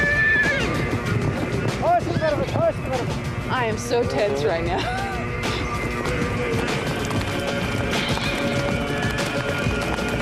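Horses ridden by Mongolian horsemen neigh in several shrill whinnies over a continuous rumble of galloping hooves, with a person talking nervously over the herd.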